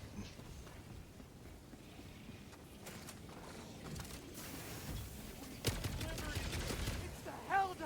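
An MG sentry turret firing in Helldivers 2, rapid bursts of gunfire mixed with mechanical clatter and battle noise, moderately loud, growing denser toward the end.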